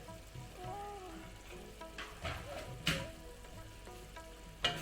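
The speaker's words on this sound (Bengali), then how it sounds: "ভালো করে এটা আমি ফ্রাই করে নেব।" Spice masala for dal makhani frying and being stirred in oil in a pan, a steady close sizzle with a few sharp scrapes of the spoon, no talking.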